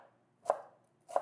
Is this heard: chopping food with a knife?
yes